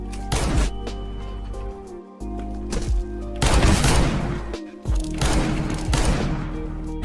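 A flashbang grenade and bursts of gunfire in a first-person shooter, with loud repeated volleys of shots and heavy booms in quick succession and no voices.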